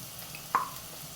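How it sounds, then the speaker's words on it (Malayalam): Vegetables for paneer fried rice sautéing in a pan, giving a soft steady sizzle with a single short scrape of a spoon being stirred through them partway, close and quiet, without talk. "ഇളക്കി വഴറ്റിയെടുക്കാം."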